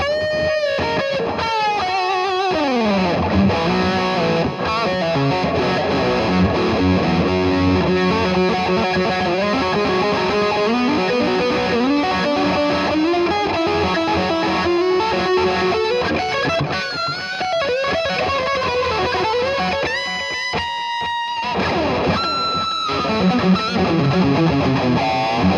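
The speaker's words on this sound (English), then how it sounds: "I like to roll the tone back on the bridge pickup like to 7 or something, and it gets nice and woolly and fat." A 1978 Ibanez Musician electric guitar plays through its bridge pickup with the tone rolled back to about 7, giving a woolly, fat distorted sound. It is loud and continuous, with bends and sustained notes, and no voice.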